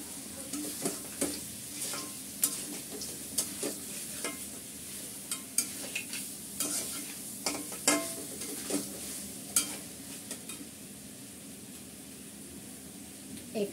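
Meat and fried nuts being stirred for biryani in a hot pan, with a steady sizzle of frying under repeated scraping and clattering strokes of the spoon, close and fairly loud throughout.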